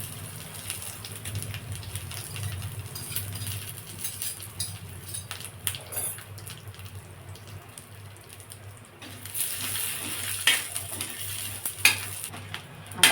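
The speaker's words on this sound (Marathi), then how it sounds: "आता खोबरं भाजून घेते मी खोबरं सुद्धा थोडं तेल टाकून भाजून घेते" Grated coconut roasts in a little oil in a pan, giving a soft, steady sizzle that is broken by the scrape and clink of a utensil stirring, which grows a little louder near the end.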